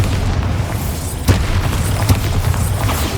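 Bombarda and Confringo explosion spells firing in the video game Hogwarts Legacy, with a couple of sharp booming blasts over a steady loud rumble of combat noise.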